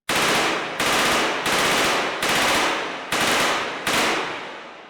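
Mac-11 submachine gun firing in the H3VR virtual reality game: six loud, rapid full-auto bursts, each lasting under a second with brief gaps between, heard alone with no talk.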